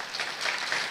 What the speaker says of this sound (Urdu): زوردار تالیاں روبینہ کے لیے.